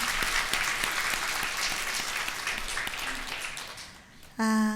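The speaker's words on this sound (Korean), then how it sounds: "우리 하나님께 영광의 박수 올려드립니다." Congregation applause in a Korean church during Sunday worship, a full wash of many hands clapping that slowly thins and fades, ending with a sustained musical tone.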